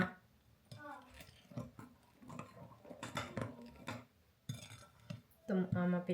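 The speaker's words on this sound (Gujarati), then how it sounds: "તો આમાં પહેલાં ચમચીથી મિક્સ કરી નાખીએ" Spoon stirring cocoa powder, baking soda and baking powder into chocolate cake batter in a bowl, faint scraping and clinking taps under a voice talking, with a louder knock near the end.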